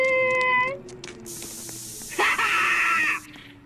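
A tonal chime fades out, then a long hissing spray in a Roblox game starts, swelling louder for about a second before cutting off abruptly.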